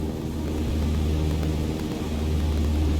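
A steady propeller aircraft engine drone in Microsoft Flight Simulator, throttling back toward cruise power, loud and continuous with a low tonal hum and no talk.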